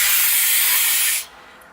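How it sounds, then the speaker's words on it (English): Got To Be Free hair spray hisses from the can in one steady, close burst of about a second before cutting off abruptly, leaving quiet room tone. "I'm just going to like use my Got To Be Free spray"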